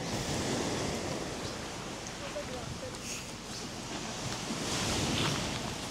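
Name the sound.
waves at Salagdoong Beach, Siquijor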